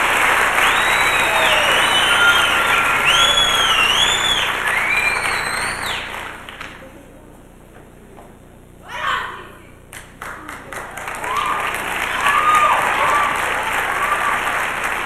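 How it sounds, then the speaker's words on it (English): At the 1989 Tularosa Rose Festival Pageant, a crowd in a hall applauds the first talent alternate with loud, dense clapping and high whistles. The applause drops away briefly, then swells again. "Let's give TC a big round of applause."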